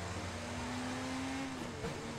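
A fast car in the Watch Dogs video game drives with a steady, droning engine tone that holds evenly for a couple of seconds before dipping slightly, with a continuous rumble and no voices.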